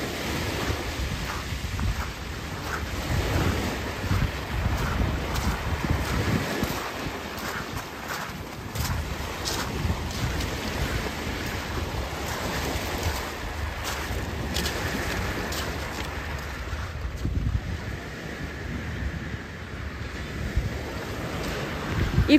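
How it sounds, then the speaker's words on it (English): Atlantic Ocean surf and wind near Lansing, a continuous rolling wash of waves with gusty wind buffeting the microphone, steady and moderately loud throughout. "the sounds of the ocean"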